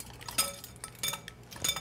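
Radish salad is tossed with garlic and green onion in a bowl, giving light clinks and scrapes of utensils against the dish in an irregular rhythm, close and fairly quiet.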